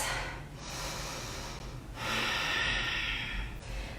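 Slow, deep breaths taken while holding a reverse plank yoga pose, with a couple of audible inhale and exhale cycles close up and fairly quiet, no talking.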